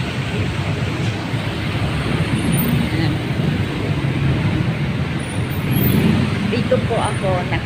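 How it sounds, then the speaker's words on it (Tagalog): Road traffic noise on a busy evening street, a continuous rumbling wash of passing vehicles at moderate loudness with a slight swell near the end. "Yan, traffic po."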